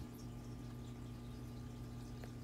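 Submersible water pump pushing water up about five feet through tubing, a steady, faint, low hum with a constant mechanical drone throughout.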